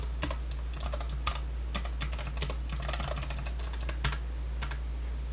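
Rapid typing on a computer keyboard while entering chart data into a presentation slide, quick irregular key clicks close by over a low steady hum, no voices.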